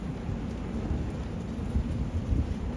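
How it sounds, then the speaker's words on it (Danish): Full storm wind and heavy rain lash a sailboat moored in the Corinth Canal, gusting to 32 knots; a steady, loud roar of rain and wind buffeting with deep low rumbles swells and eases throughout, with no voices. "Fra ingenting og så til fuld storm her."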